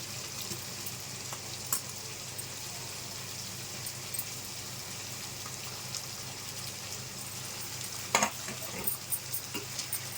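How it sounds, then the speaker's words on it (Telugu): Mint and coriander leaves fry in oil for a chicken biryani, a quiet even sizzle with occasional light crackles and a couple of small clinks near the end. "ఇది కూడా ఆయిల్లో బాగా ఫ్రై అవ్వాలి, పుదీనా కొత్తిమీర కూడా"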